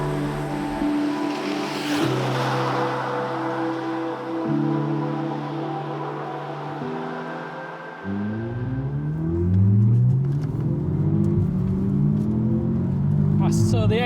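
Audi S3 petrol engine revving hard on the road, steady harmonic engine tones stepping up through gear changes and climbing in pitch, loud and continuous with road and wind noise.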